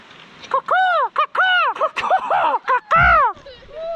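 A human voice imitating a bird, a series of loud, rising-and-falling whistled caws and squawks in quick succession, close by, outdoors on a hiking trail near Santa Fe, New Mexico.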